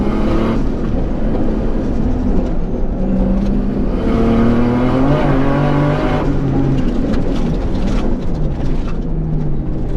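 A Subaru R4 rally car's engine revs hard from the cabin, climbing toward high rpm in rising and falling sweeps, loud and continuous with no talking.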